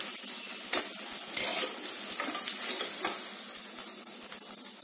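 Karigadabu, stuffed sweet dumplings, bubble and sizzle while deep frying in hot oil, a steady close hiss of frothing oil with small crackling bursts and no talking.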